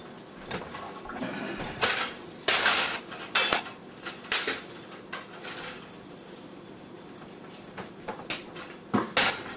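Pots, pans and utensils handled while organizing a cupboard, with a run of sharp metallic clanks and clatters at irregular intervals and quieter shuffling between them.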